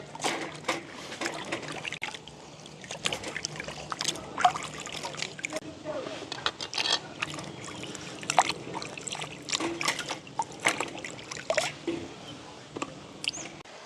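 Cut cassava pieces are washed by hand in a basin of water, with repeated close sloshing, trickling and splashing bursts throughout, under occasional talk.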